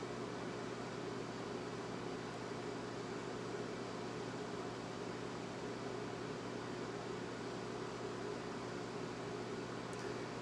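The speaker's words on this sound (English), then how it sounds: "And now the microwave should cycle itself to maintain that temperature of 190." A 1978 Amana Radarange Touchmatic II RR-10 microwave oven running, a steady low hum with fan whir and an even, continuous drone close by, with no talking.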